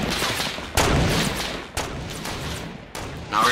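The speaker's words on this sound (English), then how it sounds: "Now we're getting shot out from somewhere else." Gunfire in Fortnite sounds in a snipers-only game mode, with several sharp, loud shots and bursts spaced a second or so apart, each followed by a brief echoing decay.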